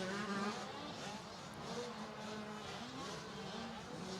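A KTM motocross bike racing past on an indoor supercross track through a rhythm section, its engine a steady buzzing drone blended into the crowd and other bikes, mid-distance and continuous.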